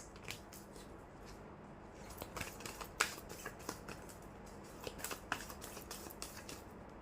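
Tarot cards handled and shuffled for a love reading, with light crisp flicks and snaps in quick irregular bursts, one sharper card snap standing out, quiet and close with no voice.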